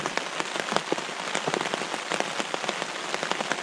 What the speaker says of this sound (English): The sound that you hear is rain pounding on our umbrella.